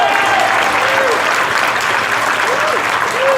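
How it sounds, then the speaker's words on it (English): Sustained applause from an audience at a disability-accessibility awards ceremony, a dense, steady wash of clapping throughout with faint whistle-like tones drifting above it. "I'd love you to applaud them all as a group ongoing."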